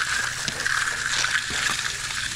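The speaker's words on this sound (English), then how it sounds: "when you're sitting on this knee board, you're squishing water up" Water squishes and sloshes softly under a kneeboard on a freshly poured, wet concrete slab, with a few small irregular wet presses over a steady outdoor background hiss.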